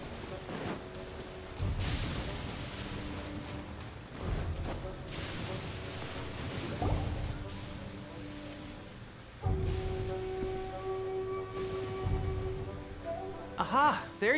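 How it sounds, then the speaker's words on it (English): Steady rain falls in the video game Genshin Impact, a continuous hiss of drops with some low rumbles, under talking voices. "It's raining."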